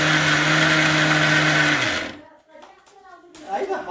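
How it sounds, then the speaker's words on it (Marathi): A kitchen mixer grinder runs loud and close, grinding coconut with a steady motor whine for about two seconds before it shuts off and winds down, followed by quieter handling sounds and talk. "आता हे खोबरं मिक्सरला लावणार"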